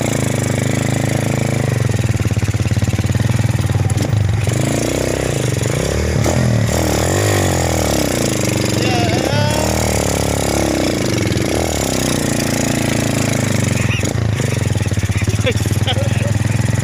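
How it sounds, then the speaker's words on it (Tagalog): A motorcycle engine runs steadily while riding on the way toward Mount Apo, a constant rough drone with small throttle swells and wind rumble throughout. "Sasakay na ako ng motorsiklo."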